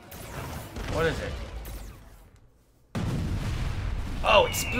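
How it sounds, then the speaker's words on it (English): Booming explosions in the video game Far Cry 5 Lost on Mars, heavy low blasts and crackling debris under excited talk, with a short quiet gap before another loud burst. "Oh, explosions!"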